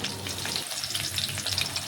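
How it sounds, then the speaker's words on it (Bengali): Chopped onions fry in hot oil while being stirred for a homemade biryani, giving a loud, steady sizzle with light scraping from the stirring and no talking. "এখন কিছুটা পেঁয়াজ তেলের মধ্যে দিয়ে দিচ্ছি। নাড়াচাড়া করে পেঁয়াজটা একটুকু ভেজে নেব।"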